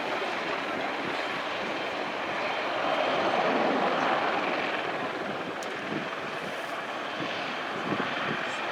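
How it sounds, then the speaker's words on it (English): A Polish MiG-29 Fulcrum jet makes its final pass at the RIAT 2013 air display, a sustained, loud, broad jet roar that swells briefly as it goes by. "And that was the last pass of his display. The MiG-29, always a hugely welcome sight in any flying display"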